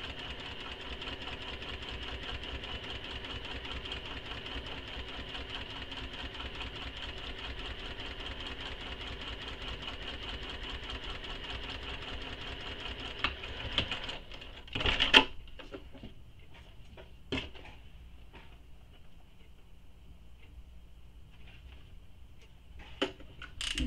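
A sewing machine top stitches a backpack, running in a steady fast mechanical whir for most of the clip, then stopping, followed by a few sharp clicks and knocks.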